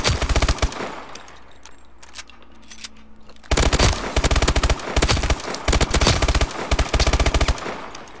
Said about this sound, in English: This is the MP11 hip shot.